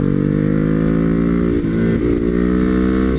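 A Ducati Hypermotard 939 engine holds a loud, close, steady high-speed drone as the bike runs at around 170, with brief dips in pitch where the throttle shifts.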